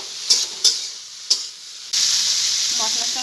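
Fried potatoes and okra tipped into a pan of spices: a few light taps and clicks, then a loud, steady sizzle and hiss of frying that continues to the end.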